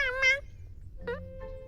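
A cartoon kitten meows twice in high, tonal cries, close and clear, with a short pause between them and a faint background hum.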